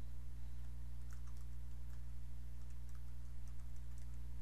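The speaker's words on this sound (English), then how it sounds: "I'll go ahead and type the word registration" Keys of a computer keyboard are typed in a short burst of faint, scattered clicks, sitting quietly beneath a steady low electrical hum.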